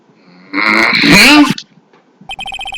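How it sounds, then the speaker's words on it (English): A burst of loud vocal noise followed by a short, repeating electronic phone ringtone from the game Phoenix Wright: Justice For All, beeping in quick regular pulses. "what is with this stupid sounding ringtone?"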